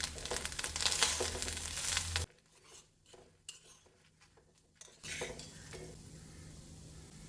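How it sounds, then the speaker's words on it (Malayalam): Garlic, shallots and curry leaves fry in an iron pan, with loud sizzling and stirring at first, a quieter stretch with scattered scrapes, then a softer steady sizzle returning; no one speaks. "ഇനി ഒരു മൂന്ന് പൂറ്റ് വെളുത്തുള്ളി നാലഞ്ച് പൂറ്റ് ചെറുള്ളി ഇടാം കറിവേപ്പില ഇടാം ഇതെല്ലാം കൂടി ഒന്ന് വറുത്തെടുക്കാം"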